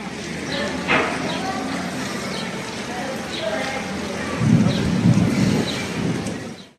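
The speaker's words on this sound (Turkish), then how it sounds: "Şanlıurfa'da dolu ve sağanak yağış etkili oldu." A heavy hail and rain storm in Şanlıurfa, a dense steady roar of falling precipitation with a harder pelting rumble later on and a short muffled thud near the start, continuing without pause.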